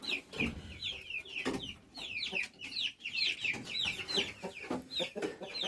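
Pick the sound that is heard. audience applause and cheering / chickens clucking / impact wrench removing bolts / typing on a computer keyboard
chickens clucking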